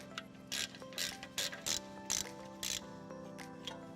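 A ratchet clicks in short bursts of rapid pawl ticks as new brake caliper bolts are nipped up during a front brake pad and disc replacement; about seven bursts sound close and clear over a steady low hum, with no talking.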